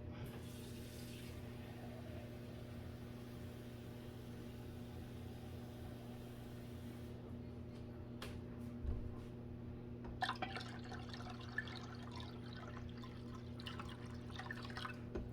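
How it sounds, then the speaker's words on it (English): Water is poured into a pot while homemade cream cheese is being made in a home kitchen. A faint trickle and splash rise in the second half over a steady low appliance hum, quiet and close. "I'm going to add a little bit more water to this so that it has enough water to cover up the sides a bit."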